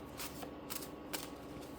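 A deck of cards being shuffled close up, with quick riffling bursts repeating through the short moment, soft and without any talking.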